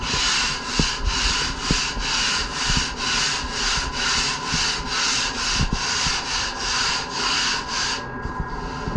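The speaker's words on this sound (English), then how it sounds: "Then I use my 40 grit block." A 40 grit sanding block rubs back and forth over a surface in a steady rhythm of about fourteen raspy, close strokes, ending with a few lighter passes.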